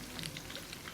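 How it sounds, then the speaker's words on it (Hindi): Shahi malai kebabs fry in a pan, a steady close sizzle and crackle of hot oil, soft and continuous with no talk. "कबाब को दोनों साइड से अच्छी तरह फ्राई करें।"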